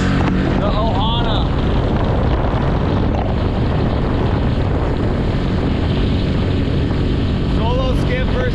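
A Solo Skiff outboard running at full throttle while racing another boat on open sea, a loud continuous roar buried in heavy wind buffeting and rushing water, with brief whistling tones near the start and end.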